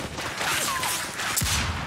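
Gunfire in the video game Mafia 2 Remastered, a dense burst of shots and crashes filling the scene, loud and close, with a sharp impact near the end.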